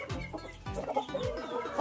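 Boston Roundhead gamecock rooster clucking close by in a short run of repeated low, throaty clucks, with no talk.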